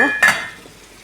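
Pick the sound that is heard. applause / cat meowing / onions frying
onions frying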